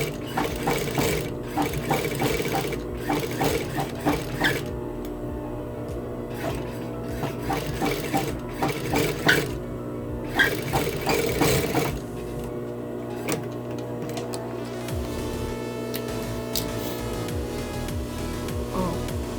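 Industrial straight-stitch sewing machine hemming knit fabric, its needle running in bursts of rapid mechanical clatter with brief pauses between runs, close and steady throughout.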